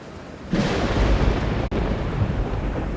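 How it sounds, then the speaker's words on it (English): A sudden loud video game thunder boom bursts in over a low rumble and keeps roaring heavily, with a brief cut in the middle. "The screen fades to white with an exceptionally loud clap of thunder"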